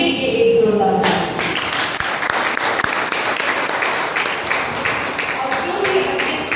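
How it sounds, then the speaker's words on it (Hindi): A seminar audience at a Holy Redeemer church gathering breaks into loud, sustained applause, many hands clapping steadily for several seconds with a voice briefly heard at the start. "तो इसके लिए अपने लिए एक जोरदार ताली।"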